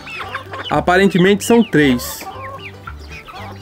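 Farm hens, including New Hampshire birds and a bantam, cluck loudly in pens: several close, bursting calls cluster mid-clip, with someone briefly speaking in Portuguese over them.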